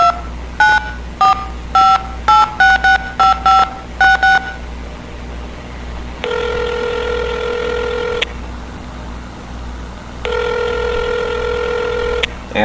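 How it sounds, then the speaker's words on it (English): Telephone keypad tones from a video game, a quick burst of separate dialing beeps followed by two long ringback tones, loud and clear with a low hum underneath. "Should probably call the boss and let him know that I'm working tonight."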